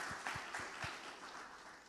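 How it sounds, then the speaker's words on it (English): Audience applause for Congresswoman Janelle Bynum at a panel event, a crowd clapping at moderate volume with a few sharper claps standing out early, steady and brief with no talk. "let's applaud for Janelle."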